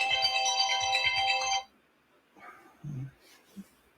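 A telephone rings insistently with a bright electronic ringtone for about a second and a half, loud and near, then cuts off, leaving quiet room tone with a few faint low thumps.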